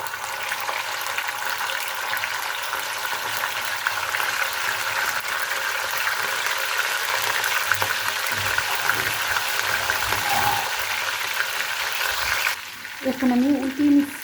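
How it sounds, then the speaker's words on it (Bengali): Egg-coated chicken shashlik pieces fry in hot oil with a constant, busy sizzle and crackle. Near the end a few knocks and bubbling sounds break in. "এখন এক এক করে চিকেন শাসলিকটি তেলের ভিতরে দিয়ে দিব।"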